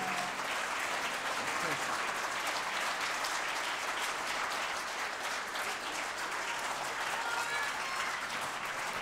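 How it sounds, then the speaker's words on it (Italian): A masterclass audience applauds steadily and evenly for the whole stretch, a dense continuous clapping wash heard from within the room, with faint voices mixed in. "vorrei sentire anche un bel applauso"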